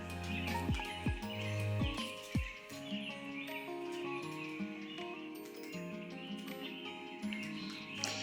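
Songbirds call outside an open door at a rural home, a mix of bright chirps and whistled phrases at moderate distance over a faint background hum, with no talking.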